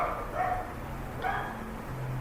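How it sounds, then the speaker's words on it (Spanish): A small dog barks a few times at a distance, faint under a steady room hum with no one speaking over it. "Se alborotó el perrito"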